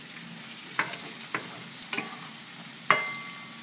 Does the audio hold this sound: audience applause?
no